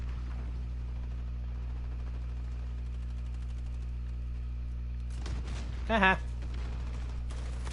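Hipfire gunfire in Call of Duty: Modern Warfare comes as a short cluster of sharp bursts near the end, over a steady low hum, with a brief laugh from a player.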